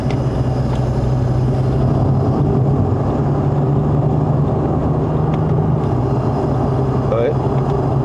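A Lexus IS350 Convert out on a test drive in Malaysia gives a steady low engine and road hum from inside the cabin while people chat over it.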